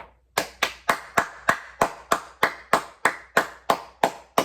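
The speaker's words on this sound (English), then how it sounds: "round of applause to the Bulldogs" A single person claps hands in a steady, even rhythm, about a dozen sharp claps close to the ear, with no talking.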